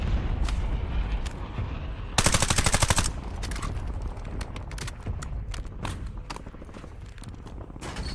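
Gunfire in the video game Warzone: a dense rapid burst of automatic fire in the middle, surrounded by scattered single shots and sharp cracks, loud and continuous against a busy game background.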